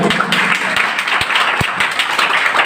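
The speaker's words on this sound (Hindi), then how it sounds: "एक बार फिर से दो बार तालियों के साथ स्वागत कीजिए।" Audience applause at a school event where a club presents computers to a high school: a dense, loud, continuous patter of many hands clapping, with a few sharper individual claps standing out.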